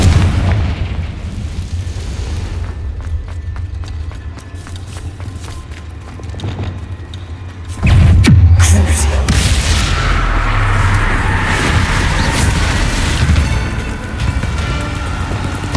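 Confringo fire-spell blasts in the game Hogwarts Legacy, booming explosions with a big impact around the middle followed by rumbling crackle and debris, loud and close with game sounds around them.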